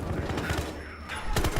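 Rapid bursts of gunfire from the video game Battlefield Hardline, a quick volley of shots fired close and loud over a busy game background, with a voice talking beneath it.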